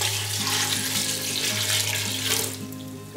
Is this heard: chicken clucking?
no